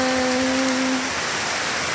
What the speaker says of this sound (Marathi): पावसाला मस्तपैकी सुरुवात झाली